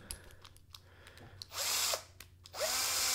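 Power drill driving in and then backing out screws, two loud whining bursts of drilling after quieter handling noises, close by with no talk.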